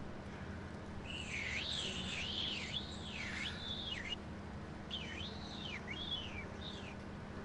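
Birds chirp in repeated swooping whistled phrases, several calls in two bursts, moderately clear over a faint steady background hum, with no one talking.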